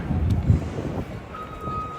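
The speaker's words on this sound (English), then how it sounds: "That sound you hear is when a construction vehicle is backing up or a truck is backing up." A steady electronic reversing beep from a backing construction truck, distant and outdoors near New York's High Line park, with wind noise and low rumble underneath.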